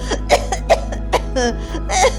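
A cartoon witch's series of short, harsh coughs and throaty bursts, close and fairly loud, with a steady low hum underneath.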